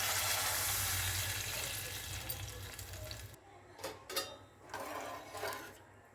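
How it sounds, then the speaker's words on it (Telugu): Water is poured into a cooking pot of frying food, a loud rushing gush and hiss for about three seconds, then stopping into quieter sizzling with a few clinks and scrapes. "ఇప్పుడైతే వాటర్ పోసేస్తున్నా అండి."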